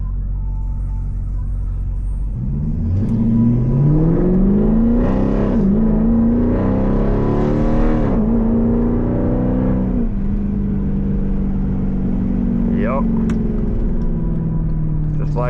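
A tuned Jeep with a 5.7 Hemi engine accelerates hard nearby, its loud rumble climbing in pitch through several gear shifts before settling into a steady drone, with a brief squeal near the end.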